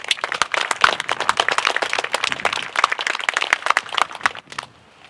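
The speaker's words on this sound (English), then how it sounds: "let's give the Eagles another round of applause" Applause from an audience at a community event celebrating Asian American and Pacific Islander communities, a dense patter of many hands clapping that stops abruptly near the end.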